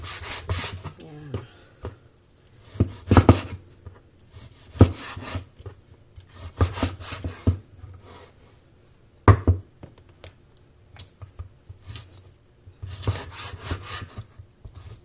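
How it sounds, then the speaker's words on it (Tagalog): A knife cutting through dried radish seed pods at harvest, producing bursts of crisp rasping, crackling cuts between quieter rustling pauses, close and fairly loud. "Kaya lang maingay pag nag-cut ng buto."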